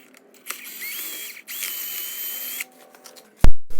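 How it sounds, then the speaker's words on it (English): A power drill whirs in two steady bursts with a brief pause between, drilling a pivot hole in forged rebar tongs, then a sharp metallic clatter near the end. "Now you want to go back and drill a hole in your pivot point."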